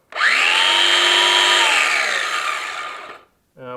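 DeWalt DC411B 4 1/2-inch cordless cutoff tool, fairly new, spinning up with a loud steady high whine for about three seconds, then winding down, followed by a brief voice.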